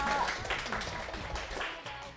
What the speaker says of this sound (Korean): 큰 박수 부탁드릴게요